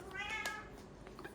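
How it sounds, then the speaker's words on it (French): A house cat lets out a couple of loud, clear meows during a sudden burst of frenzied play, close to the listener, with no talking over it. "Si vous entendez, c'est mon chat qui a son coup de folie."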